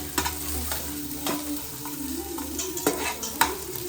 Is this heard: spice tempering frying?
yes